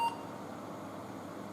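One short high-pitched electronic beep at the start of a Windows XP PC's power-on self-test, with a dead CMOS battery, followed by a steady low hum of a cooling fan.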